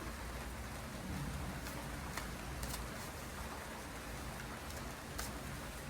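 Steady rain falling and pattering on a surface, a dense even hiss with occasional louder drips, no voices.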